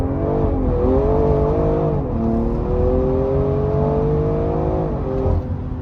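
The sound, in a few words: tuned BMW E30 wheelspin and engine revving on launch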